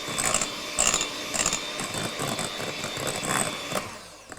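Electric mixer whisking egg whites and sugar into a meringue for a pavlova wreath, a steady close whir with rhythmic bursts as the beaters knock the bowl, running continuously without talk.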